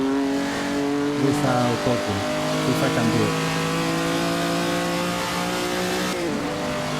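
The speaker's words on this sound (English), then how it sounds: "The sound of the engine. I love how this sounds though." A postwar 1948 Prix de Berne racing car engine in the video game Assetto Corsa drones with steady harmonic tones and shifts in pitch. A voice talks over it briefly.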